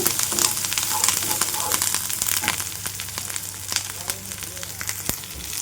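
Curry leaves sizzle in hot oil in a pan while a sprouted moong dal curry is being made, a steady close crackling fry with occasional sharper pops throughout.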